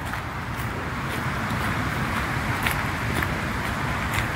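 Cars passing on a motorway near Scratchface Lane, Bedhampton, by Portsmouth, heard through a gap in trees as a steady roar of traffic with faint whooshes of individual vehicles going by.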